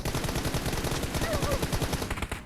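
Gunfire in the PUBG video game, a rapid continuous burst of automatic shots crackling densely under overlapping game noise and a voice speaking.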